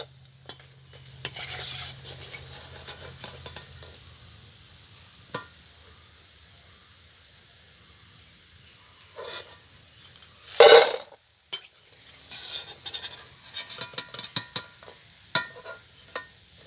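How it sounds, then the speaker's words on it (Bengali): Batches of soybean pakoras fry in hot oil with a soft, steady sizzle, broken by clinks of a utensil against the pan and a brief louder scrape of stirring midway. "এরকমভাবে সবগুলো পকোড়া আমি ভেজে নেব"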